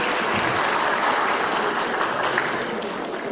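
Audience at a Korean government procurement expo applauding an arriving association chairman, a dense continuous wash of clapping throughout the short stretch.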